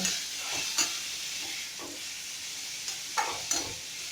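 Chopped tomato and onion frying in a pan for a cauliflower varuval, a steady close sizzle broken by several stirring scrapes and clatters, with no talk.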